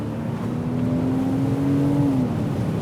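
A convertible's engine pulls hard at full throttle, a loud, steady drone that rises slightly in pitch and then eases off, alone without talk.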